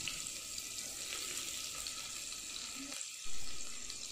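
Small chopped onions sauté in oil for Chettinad tomato rice, a continuous soft hiss of frying with a brief dip and a louder surge near the end.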